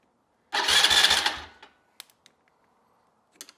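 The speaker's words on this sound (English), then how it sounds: "I heard the starter." ATV starter motor cranking the engine of a neglected quad bike: one loud, close grinding crank lasting about a second that cuts off abruptly, followed by a few faint clicks in near silence.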